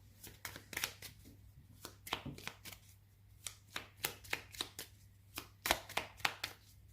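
Tarot cards shuffled and laid down in a quiet room, a steady run of crisp, close slaps and flicks in uneven clusters, with no voice over them.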